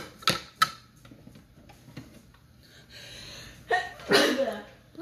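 A person sneezes sharply at a makeup session at home, with faint ticking and other small sounds around it and a second burst of noise shortly after.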